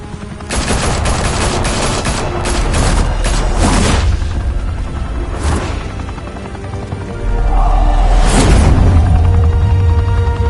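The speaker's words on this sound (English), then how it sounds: "Now we only have to take one of you down. Open fire!" Rapid bursts of gunfire in a Batman video game, loud and close, with dense volleys crowding the first few seconds, a few separate blasts later and a heavy booming rumble near the end.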